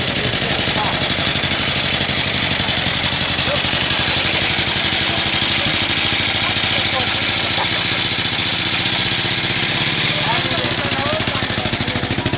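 Motorcycle engines idle and rumble at a veteran vehicle meet in Eger, a dense, steady mechanical chatter close by with voices talking over it.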